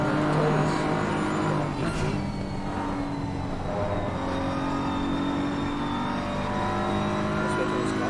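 A GT race car engine drones continuously at Spa in Assetto Corsa Competizione, heard on board during a hot lap. It holds a loud, steady note with a slight rise in pitch.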